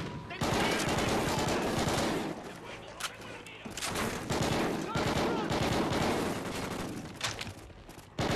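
Sustained automatic gunfire from Call of Duty Ghosts, loud, dense bursts of rifle and machine-gun fire with brief lulls, filling the whole stretch with speech mixed in.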